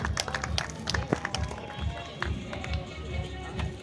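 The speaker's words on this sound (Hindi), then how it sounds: "तालियां बजाइए सभी, बहुत बहुत स्वागत" An audience at a gaushala's 25th-anniversary honour ceremony claps in scattered, uneven applause, close and moderately loud, with a few sharper individual claps and murmuring voices underneath.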